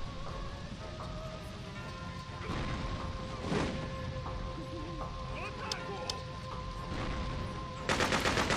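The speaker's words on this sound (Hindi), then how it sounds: "ले तो बंदूक, सॉरी गोलियां खा" Gunfire in the Freedom Fighters video game, scattered rapid shots and bursts crackling through a dense noisy battle background, ending in a loud sustained volley.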